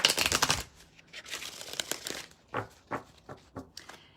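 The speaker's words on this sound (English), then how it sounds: "I hope that's not too terribly loud when I shuffle" A deck of cards is riffled in a quick, papery burst, followed by a series of separate crisp snaps and flicks as cards are handled nearby.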